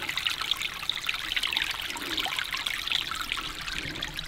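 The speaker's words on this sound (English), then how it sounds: "Just a nice sound of trickling water." Gentle water trickles continuously nearby, a soft steady babble with small bright splashes and no voices.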